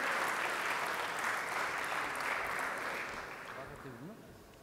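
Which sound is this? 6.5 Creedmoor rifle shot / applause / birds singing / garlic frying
applause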